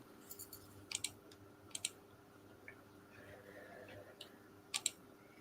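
Mechanical keyboard typing heard faintly in the background, sparse clicky keystrokes in small bursts separated by pauses, set against a quiet room hum.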